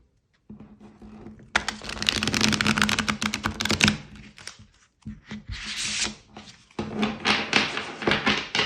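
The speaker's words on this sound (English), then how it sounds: "let's see how this deck shuffles" Close-up shuffling of a mini tarot deck: several bursts of rapid riffling and flapping, separated by brief pauses and soft taps.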